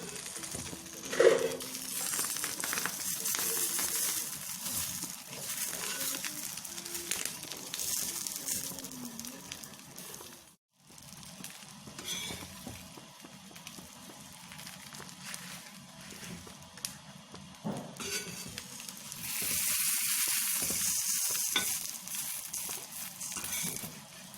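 Mackerel wrapped in banana leaf roasting in a pan until the leaf chars on both sides: a continuous soft hiss and sizzle with scattered small pops, steady and moderately quiet, with one brief dip midway.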